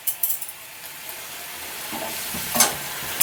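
Pumpkin stem curry with potato is stirred in a pan: a few quick utensil clinks, then a soft sizzle and scraping strokes that grow louder near the end.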